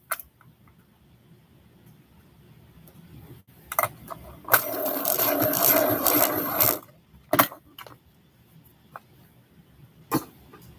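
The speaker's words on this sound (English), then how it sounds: "So I get this one to sharpen right." A Scarlet Lake colored pencil is ground in a sharpener for about two seconds, a loud close whirring grind, with scattered clicks and knocks before and after in a quiet room.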